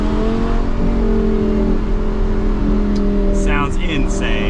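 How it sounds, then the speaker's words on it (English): A Lamborghini accelerates hard, its loud, steady engine roar filling the moment with harmonic tones that shift and climb near the end, up close to the car. "We'll leave you guys with one more acceleration."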